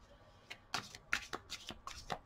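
Tarot cards being shuffled for a reading, a run of quick papery riffles and slaps, close and fairly quiet, with no talking.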